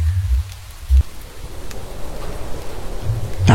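A rain and wind sound effect in a horror story narration: a steady, fairly loud wash of heavy rain with low rumbling gusts and no voice.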